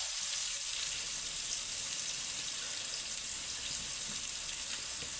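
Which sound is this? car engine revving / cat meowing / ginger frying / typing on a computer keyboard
ginger frying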